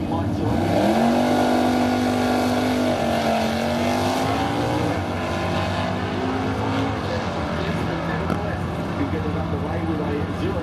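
Drag racing cars at The Bend spring nationals roar loudly as engines rev and launch down the strip, a sustained high-powered drone with shifting pitch, while a commentator talks over it.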